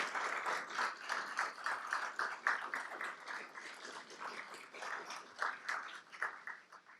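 Audience applause at a county government address honoring department heads, a steady, fairly faint wash of many hands clapping together from a distance, without talk.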